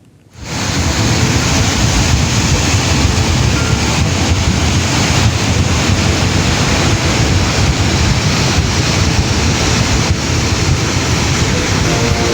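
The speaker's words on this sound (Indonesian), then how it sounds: "nekat menyeberang saat arus banjir deras" A swift cold lahar flood from Mount Semeru surges loudly down the Regoyo river channel, a dense, unbroken roar of churning water and debris that starts abruptly and holds steady throughout.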